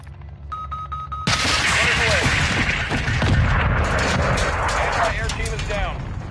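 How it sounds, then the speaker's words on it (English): A missile strike hits in the game Call of Duty Modern Warfare 2: a sudden, loud blast after a short beeping tone, then a sustained roar of explosions and gunfire with voices talking underneath. "Incoming missile."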